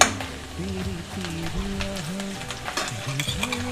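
Bay leaves and dried red chillies sizzle and fry in hot oil with browned onions for a sesame broiler chicken curry, a steady close crackling hiss with stirring throughout.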